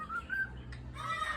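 A cockatoo gives short, bright whistles, a couple of rising tonal notes close by, with faint background noise and no talk.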